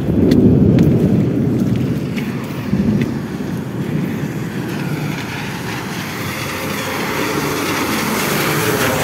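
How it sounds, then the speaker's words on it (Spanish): Steady rumbling roar with low, rolling swells, like thunder and heavy rain from a storm, loudest at the start then holding a constant wash. "Y está cayendo una tormenta de rayo por acá."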